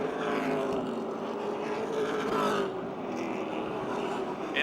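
Stock race cars at the Motordrome Speedway oval during a 100-lap race, engines droning steadily as a car comes out of the final turn, a continuous distant roar with slight shifts in pitch and no talk.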